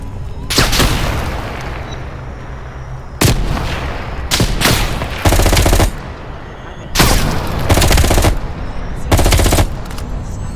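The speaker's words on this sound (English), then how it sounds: "At the fork, you followed the road right toward the sound of gunfire." Heavy gunfire in the Call of Duty Black Ops Cold War video game: loud bursts of automatic fire alternate with booming shots, separated by short pauses over a continuous rumbling backdrop.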